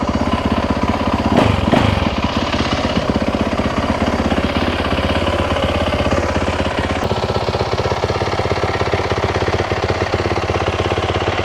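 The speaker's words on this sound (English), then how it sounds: "after putting the new fuel pump in, the new fuel injector, now she runs" A Yamaha YZ450F dirt bike engine, freshly fitted with a new fuel pump and fuel injector, runs at a steady loud idle with a rapid even thumping, after a brief clatter near the start.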